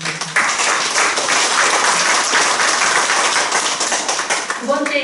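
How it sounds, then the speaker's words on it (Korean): Warm audience applause at a gathering on forgiveness and reconciliation, dense continuous clapping throughout, with a voice briefly emerging near the end. "도범님께 다시 한번 감사 박수 부탁드립니다."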